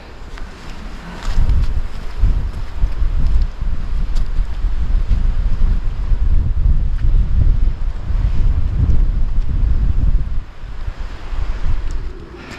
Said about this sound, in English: Bit windy, but it's lovely.